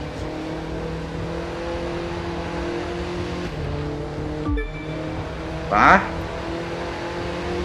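Car engine in The Crew 2 droning steadily during a race, with a dip and a thump midway followed by a brief scraping burst, and a short spoken word from a player.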